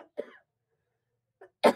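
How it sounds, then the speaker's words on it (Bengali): Three separate coughs from a person with an itchy throat: a short one, a faint small one after a pause, and a louder, harsher final cough, close and with no talk. "গলাটা খুসখুস করে কাশি হচ্ছে"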